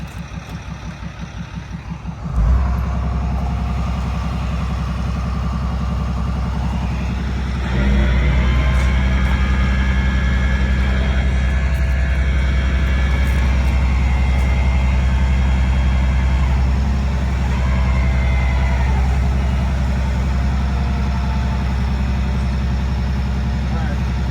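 A tow truck engine runs loud and steady while winching a Mercedes onto wheel skates, with a deep continuous drone that steps up in level after a few seconds; someone talks over it.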